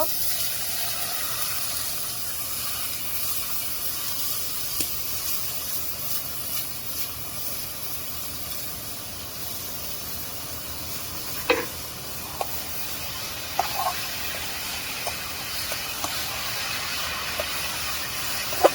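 Cabbage frying in a pan, giving a continuous low hiss of steam and sizzle, with a few sharp scrapes and clicks from stirring in the second half.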